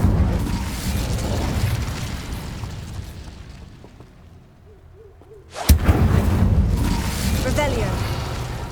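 A fire spell is cast in Hogwarts Legacy: a sharp crackling burst erupts loudly after a quieter stretch, followed by a sustained roaring rumble amid other combat noise.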